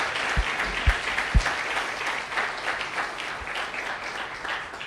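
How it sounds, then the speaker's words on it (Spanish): A church congregation applauds together in a dense, steady wash of clapping with a few low thumps near the start, holding at even loudness throughout. "Denle un aplauso al Señor."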